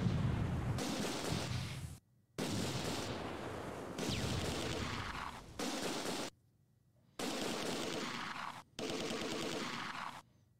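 Mortar rounds and gunfire in the WWII strategy game Close Combat 2: A Bridge Too Far come as loud, sustained rumbling barrages broken by abrupt silent gaps, with heavy booms and crackling fire.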